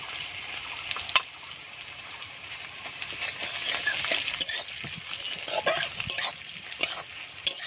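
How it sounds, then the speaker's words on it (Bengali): Whole spices, slit green chillies, dried red chillies and bay leaves fry in oil in a clay pot for a tempering. A continuous close sizzle runs throughout, with scattered crackles and pops and occasional stirring scrapes. "ফোড়নগুলো সুন্দর করে ভেজে নেব, সেন্ট উঠবে দারুণ।"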